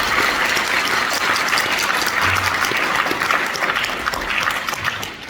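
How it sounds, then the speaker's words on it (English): Loud, sustained applause from an audience at a school steel band spring performance, a thick continuous roar of many clapping hands that holds steady before tapering slightly at the end. "I want to give those people a round of applause for everything they do for our kids."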